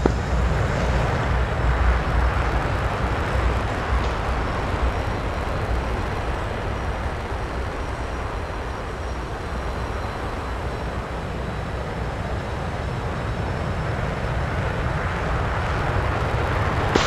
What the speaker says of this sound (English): Got some jet engines blasting here.